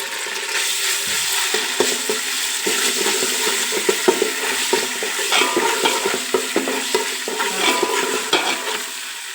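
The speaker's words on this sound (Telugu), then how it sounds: "ఒక టేబుల్ స్పూన్ వెల్లి పేస్ట్ వేసుకొని కొంచెం పచ్చివాసన వేదాకా వేయించుకోవాలి" Garlic paste frying in a spoonful of oil in a pan, a steady close sizzle with frequent scrapes and clicks of stirring throughout, no voices.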